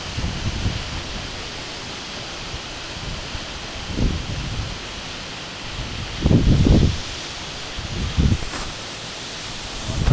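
The Amitabh Bachchan waterfall roars as a steady, broad rush of falling water, with occasional louder gusty swells and rustles rising over the constant wash.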